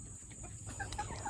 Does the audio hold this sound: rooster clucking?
yes